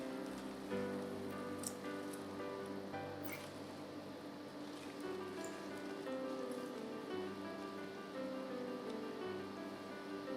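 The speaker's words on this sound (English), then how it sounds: "When the water is boiling," Choy sum blanching in boiling salted water with a little oil, a steady bubbling and rolling simmer that holds evenly throughout at moderate loudness, with no voices.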